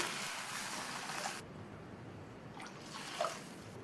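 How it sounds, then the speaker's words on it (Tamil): Water is poured into a pan of semiya kichadi, a broad splashing hiss for about a second and a half, then a softer trickle with a small clink, close and quiet in a home kitchen. "இப்போ இதில் தண்ணி சேர்க்கணும்."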